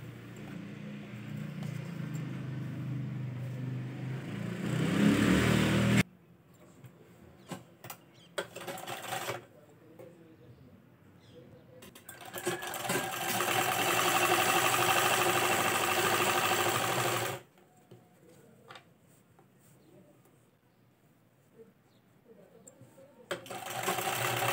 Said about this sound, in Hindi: अब हम इसको फिटिंग वाली सिलाई लगाएंगे।